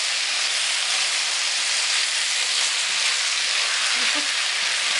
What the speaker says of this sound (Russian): Это у меня все жарится